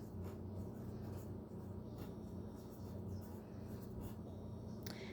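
Faint, soft scratches of a pencil writing a single word into notes during a fractions lesson, quiet and steady with brief stroke bursts, and no voices.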